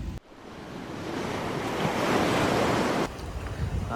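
Sea waves surge and wash onto the shore at Kollam Pulimuttu, a broad, steady roar that swells over a few seconds and eases slightly near the end, with wind buffeting the microphone and no voices.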